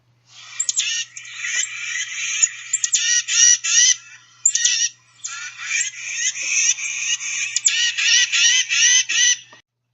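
A raspy titmouse call repeats again and again as harsh, buzzy notes in rapid rhythmic runs with brief pauses, fairly close and clear over a quiet background.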